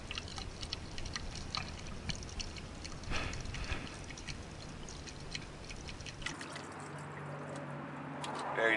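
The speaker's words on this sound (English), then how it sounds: "Pour this whole quart in here." A quart of thin motor flush is poured through a funnel into an engine, a soft steady glugging trickle that continues for several seconds before tapering off.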